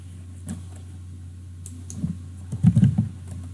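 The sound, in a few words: computer keyboard typing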